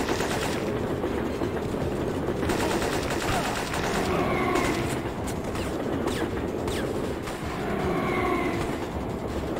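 Gunfire from the Syphon Filter video game, set on a subway line, rattles in dense, continuous bursts of shots over a loud, steady mechanical rumble, with no talking.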